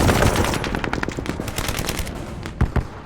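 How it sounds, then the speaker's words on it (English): Dense automatic gunfire and mortar fire from a war scene, with rapid overlapping bursts of shots and a few louder booms near the end, continuous and close throughout. "Suddenly, mortars and gunfire are flying in from everywhere."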